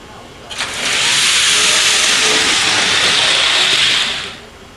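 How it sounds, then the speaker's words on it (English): A train comes to a stop with a loud, sustained steam hiss that swells in quickly, holds steady for several seconds and then fades away. "Choo-choo stopped."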